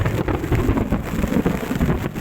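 Steady, heavy rain pours down outdoors on a muddy clay track during a storm, a continuous dense hiss with low rumbling underneath and no voices.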